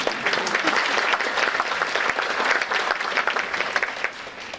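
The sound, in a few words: audience clapping at school winter concert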